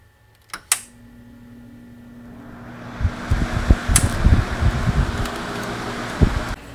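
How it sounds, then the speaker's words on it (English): Portable air conditioner switching on while powered from a 200Ah LiFePO4 battery through an inverter: sharp clicks, then a rising fan whoosh building into a steady airflow rush with low thumps. "Let's go ahead and turn on the air conditioner."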